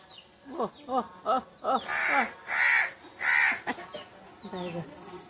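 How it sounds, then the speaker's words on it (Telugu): Crows caw loudly and close by in a run of repeated harsh calls, some longer and more strained, with faint background voices. "కాకులు అలా వస్తున్నాయి పాపం"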